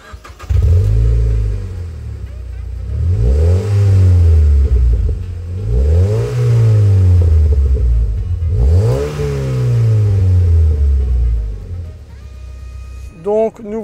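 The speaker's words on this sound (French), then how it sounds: "tu nous as parlé de l'échappement tout à l'heure, je te propose de la démarrer pour nous le faire écouter" A Mazda MX-5 roadster engine cranks, starts and is revved repeatedly, its exhaust rising and falling in three loud, close sweeping swells over a steady idle before cutting off.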